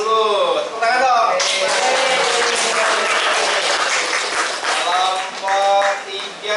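Classroom students clap in a lively burst that continues for several seconds, mixed with excited voices and cheering.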